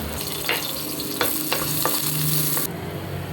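Ginger sautéing in a pan for chicken sinampalukan, a steady close sizzle with several sharp scrapes and taps of a utensil stirring through it, no voices.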